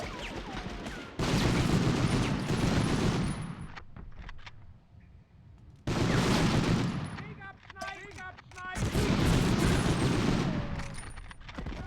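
Loud bursts of video game gunfire in Medal of Honor come in three dense volleys of rapid shots, separated by quieter gaps holding scattered single shots and clatter.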